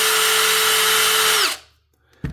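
A power tool sanding and polishing a knife blade runs loud and steady with a high whine, then winds down and stops, followed by a brief knock.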